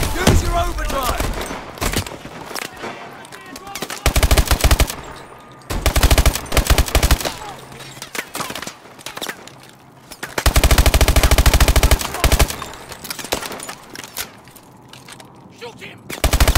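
Medium machine guns firing in the video game Call of Duty: Advanced Warfare, during a hostage rescue in Lagos, Nigeria: several loud, sustained automatic bursts separated by quieter gaps, with voices talking in between.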